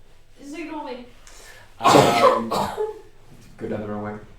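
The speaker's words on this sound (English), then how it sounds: "I just had a cough for a couple of days" A person coughs several times in short bursts, close and loud, with a throat-clearing rasp between them, set among brief voiced sounds and breaths.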